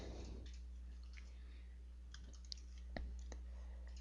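Computer mouse clicks during CATIA V5 drafting work, a few faint sharp taps spread over a few seconds against a quiet background hum.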